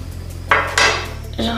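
A metal bathtub drain cover is pulled out during a bathroom cleaning, giving two quick close clinks and scrapes of metal, then a brief ringing tone.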